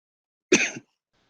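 A single short, sharp cough close to the microphone during an online tech talk, lasting about a third of a second and surrounded by silence.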